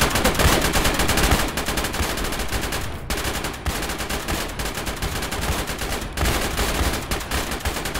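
Dense, loud gunfire from the Arma military video game fills the whole stretch, rapid automatic bursts and overlapping shots crackling continuously with brief gaps between volleys.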